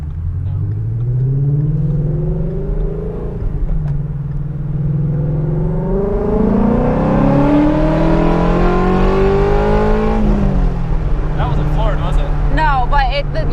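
A Ford Mustang GT350 V8 revs freely from the driver's seat, climbing through rising pitch, easing off, then sweeping up again toward redline with a loud, throaty rumble while people talk inside the car.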